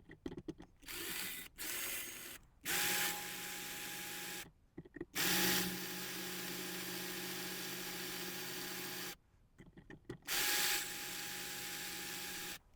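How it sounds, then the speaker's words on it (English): A handheld power drill bores out rivets on an HO scale Mantua GP20 model locomotive, whirring in several bursts of a few seconds each with short pauses between, close and fairly loud. "we put it in a more typical type of power drill, and we're going to use that to drill out these rivets"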